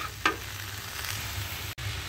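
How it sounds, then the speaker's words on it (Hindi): Pumpkin leaves, kaddu ka saag, get stirred in a frying pan, a soft steady sizzle with a spatula scrape near the start and a brief pause late on, no voices. "कद्दू का साग ये पूरी तरह से मिक्स कर लेती हूँ"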